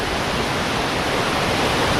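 Waterfall of the Val de Molières in a mountain stream setting, a dense, steady roar of falling water heard up close, loud and unbroken, with no voices.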